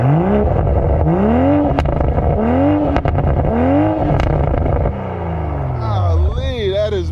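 A Toyota Supra MK5 engine revs hard in repeated rising bursts, loud and close, with a throaty rumble between the pulses and a person talking over it.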